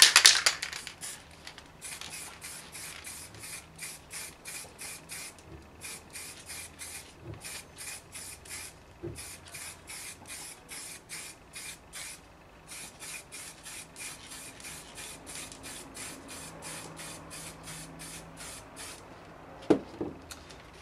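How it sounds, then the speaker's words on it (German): Spray paint in a darker melon yellow hissing from an aerosol can onto a wine bottle, in rapid, regular short bursts that repeat steadily for around twenty seconds at a moderate, close level. "sprüht den unteren Teil bzw. den oberen Teil der Flasche"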